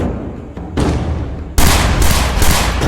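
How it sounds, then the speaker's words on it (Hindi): Loud, rapid gunfire crackles in dense bursts during the shooting of politician Baba Siddique, growing more intense partway through, close and harsh. "तभी ताबड़तोड़ गोलियां चलने लगती हैं"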